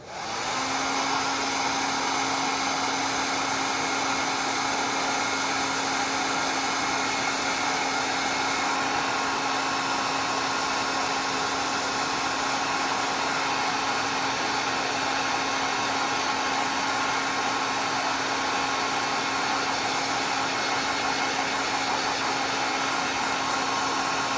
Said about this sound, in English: I'm gonna blow it dry